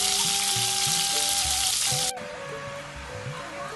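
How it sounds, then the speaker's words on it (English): Chili fries for sambal in a pan with a loud, dense, steady sizzle that suddenly drops to a quieter crackle partway through, while a low tonal hum runs underneath and no one speaks. "After we fried the chili"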